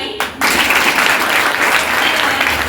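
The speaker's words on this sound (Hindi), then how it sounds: "तो भाई ठोको ताली।" Audience applause, loud and close, breaking out after a short pause and holding steady as a dense wash of clapping to the end.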